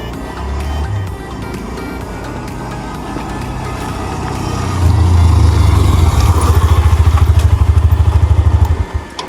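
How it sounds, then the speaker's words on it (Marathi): A motorcycle ridden at speed, its engine droning steadily and growing louder partway through, then breaking into a strong rhythmic pulsing near the end, with no talking. "तर मित्रांनो बघू शकता बाईक कसली स्पीडला गेलेली आहे आपली"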